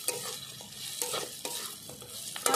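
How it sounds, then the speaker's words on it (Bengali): Katla fish head frying and being stirred with spices in a pan, a steady close sizzle with several sharp scraping stirs, no voices. "মশলার সঙ্গে একসঙ্গে ভাজা মাথাটা আমি ভালো করে কষিয়ে নিচ্ছি"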